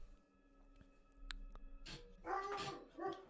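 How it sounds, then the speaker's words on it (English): Several house dogs bark in loud, overlapping bursts during a session of the horror game Outlast, starting after a quiet stretch and continuing in clustered volleys close to the microphone. "My dogs are freaking out."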